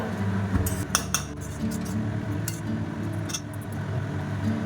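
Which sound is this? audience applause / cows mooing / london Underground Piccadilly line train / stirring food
stirring food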